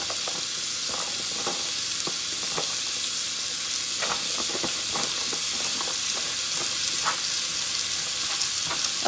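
Onions brown in a hot pan for collard greens, giving a loud, continuous hiss of sizzling with scattered small crackles and pops close by.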